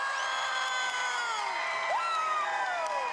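An arena crowd at an American Ninja Warrior competition cheers and whoops for ninja warrior Taylor Johnson, with sustained roaring and high, rising whoops over a dense, continuous wall of noise.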